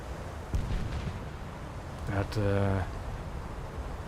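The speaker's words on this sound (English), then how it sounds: "And the Roma immediately got detonated." The battleship Roma detonates in a naval warfare video game: a sudden sharp blast followed by a rumbling, crackling tail, with a voice reacting over the noise.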